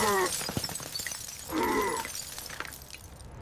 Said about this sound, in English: The reinforced glass shatters under the pressure.